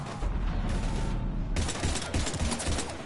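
Rapid gunfire in the Mass Effect video game, a dense, continuous fusillade of automatic shots that stays loud throughout and intensifies partway through.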